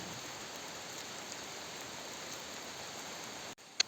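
Steady, even rain hisses continuously at close range, then cuts off abruptly near the end.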